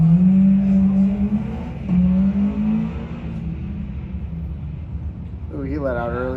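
A stick shift drag car revs and launches on a drag strip, engine droning loud and steady at first, then easing before a rising shift-like sweep near the end, under a commentator's talk.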